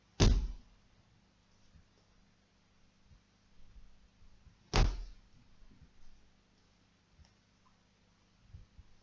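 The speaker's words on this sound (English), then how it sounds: "we'll thud the feet down again" Bare feet thudding down onto the floor during a gentle hatha yoga session, two distinct heavy thumps several seconds apart in a quiet room, with faint softer movements in between.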